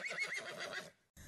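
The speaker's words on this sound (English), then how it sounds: "His horse tossed its head and whinnied." A horse whinnies in a quick, quavering neigh lasting under a second, fairly close but quiet, followed by a short gap and a brief soft noise.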